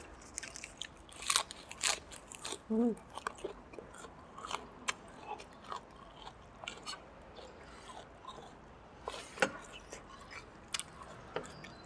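Crispy potato crackers crunched by someone eating alongside a bowl of pork noodle soup, giving scattered sharp bites and crackles, close to the mic, with a cluster of louder crunches early on and quieter chewing between.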